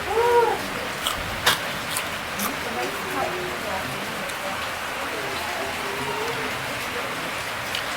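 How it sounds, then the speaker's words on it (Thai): Rain falls steadily outdoors as a constant broadband hiss, with a brief voice near the start and faint bird-like calls scattered through it. "ฝนตกเบิดมื้อมื้อนี้"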